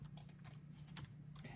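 Quick clicks of typing on a computer keyboard while searching from the Windows 10 Start button, a short run of close, light key taps.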